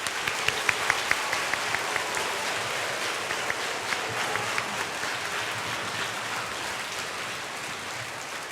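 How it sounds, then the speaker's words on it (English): An audience applauds author Kate DiCamillo after her talk, a sustained wash of many hands clapping with a few sharper, nearer claps standing out early, holding steady throughout. "Can we give her another round of applause?"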